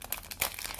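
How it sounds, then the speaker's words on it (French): Small plastic packet from a LOL doll hair set being torn open, a quick close burst of crinkling and tearing with sharp crackles over under a second. "Ensuite, nouveau petit sachet. Un petit peu dur à ouvrir celui-là."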